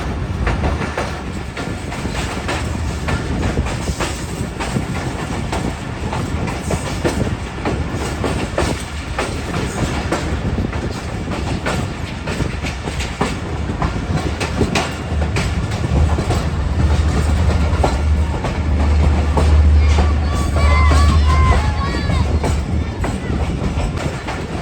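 A Bolan Mail passenger train approaches Khanot railway station in Pakistan with a steady rumbling roar and rhythmic clickety-clack of wheels, loud and continuous throughout, building slightly toward the end.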